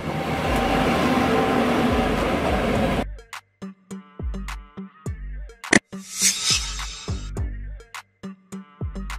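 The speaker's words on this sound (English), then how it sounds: "An intercity train is a type of train service that connects cities or major urban areas." An intercity train passes with a loud, dense rushing rumble for about three seconds, then cuts off abruptly into rhythmic electronic pulses.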